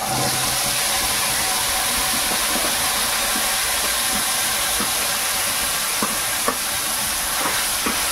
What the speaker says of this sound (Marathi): इथे आपण जी पेस्ट तयार केली होती मसाल्यांची, ती आता अशी टाकून घेऊ तेलात।